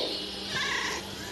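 A pet cat gives a single short, close meow, clear and fairly loud against quiet room noise.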